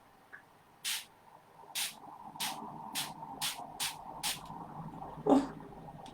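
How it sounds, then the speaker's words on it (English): A hand spray bottle misting water onto a wet painting gives seven or eight short, soft hissing puffs spaced about half a second apart in a quiet room, followed by a brief low thump. "Look what happens when I spray some mist on it."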